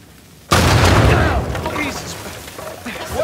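A loud explosion in the video game Uncharted 4 bursts in suddenly and then rumbles on as a long, gradually fading roar with scattered debris and crackle. Game voices call out briefly at the end.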